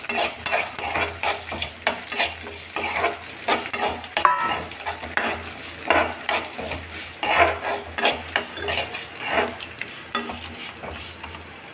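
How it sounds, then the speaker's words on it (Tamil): Turkey berries and tamarind sauté in a hot oiled pan for chutney, a steady sizzle broken by repeated rhythmic scrapes and clatters of a spoon stirring, loud and close with no talk. "இப்போ இந்த சுண்டக்காவையும் இதோடய சேர்த்து ஒரு வதக்கி வதக்கிக்கலாம்"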